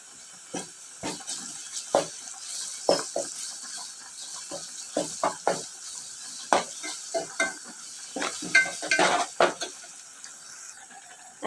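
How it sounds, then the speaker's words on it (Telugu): Ginger garlic paste frying with onions, stirred in a pan: repeated sharp scraping and clinking strokes of a spatula over a faint sizzle, irregular and close, no talking. "ఇప్పుడు అల్లం వెల్లుల్లి పేస్ట్ అయితే వేసుకుందాం"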